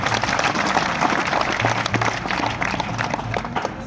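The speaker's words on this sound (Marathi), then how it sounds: "कुस्त्या या वर्षीच्या आवडल्या असतील तर जोरदार टाळ्या वाजवून सांगा" Crowd at a village wrestling final applauding, a broad continuous roar of clapping from many people outdoors, with a loudspeaker voice and a low hum running underneath.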